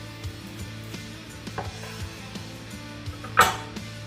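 A knife slices into smoked Texas-style wagyu dino beef ribs, giving soft repeated cuts and taps against a board, with one sharper clack near the end, close and fairly quiet.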